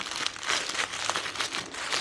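Crinkly gold wrapping around a newly unboxed anthurium plant being handled, giving close, continuous rustling and crackling in irregular bursts, with no voices.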